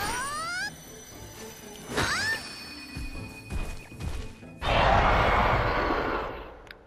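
A cat from the Monster Hunter Stories 2 video game gives rising, squeaky meows and yowls in quick bursts. A loud, noisy whoosh or crash follows, then fades out. No one speaks.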